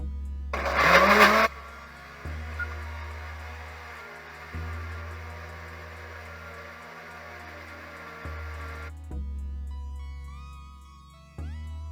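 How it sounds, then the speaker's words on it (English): Kitchen blender whirring soup ingredients for fufu and peanut soup, a loud motor drone running in pulses that stop and restart several times, with a brief clatter at the start and no speech. "and then I'll be blending it"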